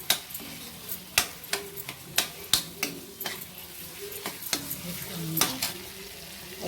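Potatoes fry in an iron wok, a soft sizzle broken by repeated sharp scrapes and clicks of a spatula stirring at an irregular pace, close and fairly quiet.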